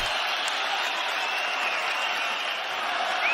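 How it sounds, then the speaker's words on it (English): A crowd roars steadily around a combat sports fight, a sustained wash of cheering throughout, with a commentator's voice faintly mixed in. "Crowd's getting behind them here."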